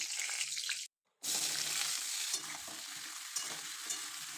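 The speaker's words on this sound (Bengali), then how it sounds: "সবজিগুলো আমি আর আলাদা করে ভাজলাম না একসাথে তেল মশলা দিয়ে ভালো করে কষে নেব" Mixed vegetables fry together in oil with spices in a home kitchen, giving a loud continuous sizzle with stirring. There is a short silent gap near the start.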